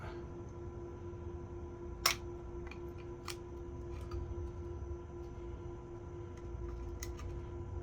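Metal snips cut sharp edges from a part for a DIY 64 kWh battery, giving one crisp snip followed by a few fainter clicks in a quiet workshop with a steady hum.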